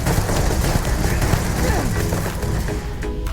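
In Starfield, the Rapidshot weapon fires on full auto, producing a dense, loud, continuous burst of rapid gunshots alongside game sound effects.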